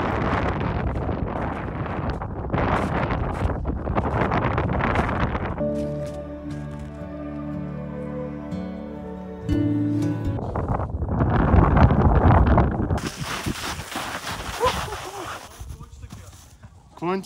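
Strong gusty wind on a wintry Stara Planina mountain roars and buffets the microphone in loud surges, broken by a quieter stretch with music, while people talk now and then.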